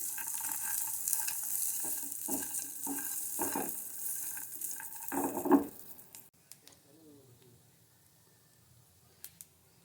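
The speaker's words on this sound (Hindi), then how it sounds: "ये भी फ्राई हो चुके हैं ड्राई नट्स।" Dry nuts frying in hot cooking oil give a steady bright sizzle, with a few stirring strokes and scrapes midway that fade to quieter frying and light clicks.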